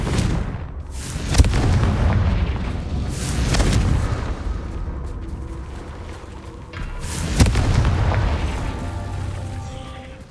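The Confringo fire spell in the Hogwarts Legacy video game sets off a few deep, rumbling explosive booms amid continuous battle noise, with the blasts swelling and fading over the rest of the game sound.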